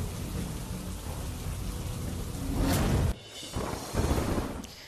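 Heavy rain hisses steadily under strong wind, then a sharp rumbling thunderclap bursts in near the end, followed by a brief lull and further rolling thunder with the downpour continuing.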